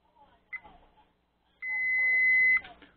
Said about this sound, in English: It's got a nice, really nice loud beep on it.